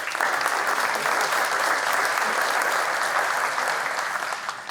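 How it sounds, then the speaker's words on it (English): A room full of students and guests applauds at a university lecture series, a dense, steady wash of clapping that holds strong throughout and fades slightly at the end, with no talking over it. "That deserves a round of applause."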